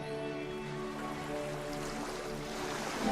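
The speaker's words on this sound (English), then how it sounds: "Where's water? I hear water." Flowing water in the video game The Beginner's Guide, a steady gentle rush and trickle of a stream heard alone, with a faint tonal hum underneath.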